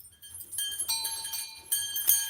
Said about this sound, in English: my bells make noise